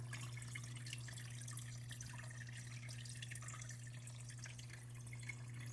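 Water trickles and drips from a small, leaking waterfall with a basin in a bioactive paludarium build, a steady close splashing over a low constant hum.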